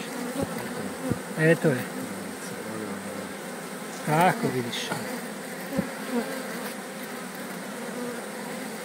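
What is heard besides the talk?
honeybees buzzing at an opened hive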